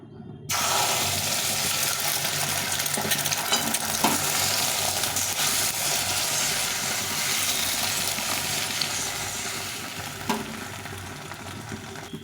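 Beaten egg omelette frying in a pan, a steady close sizzle with faint scraping and stirring sounds running continuously throughout, no voices.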